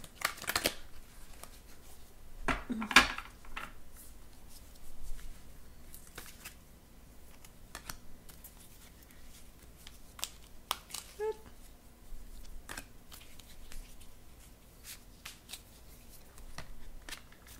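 Stiff new tarot cards riffled and shuffled repeatedly, crisp flicking bursts with snaps and clicks, close up, scattered across a quiet room.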